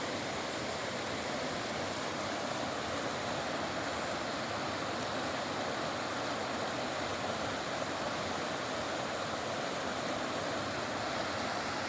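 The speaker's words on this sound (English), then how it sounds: "This river's so loud." The Molalla River rushes loudly in an unbroken, even roar of flowing water that holds constant for the whole stretch, with no voices or other sounds.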